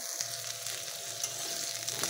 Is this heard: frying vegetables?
yes